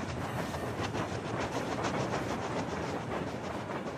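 Freight train wagons roll along rails with a dense, continuous rumble and a faint rhythmic clatter, loud and steady throughout.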